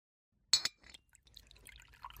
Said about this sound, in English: Pour me a drink.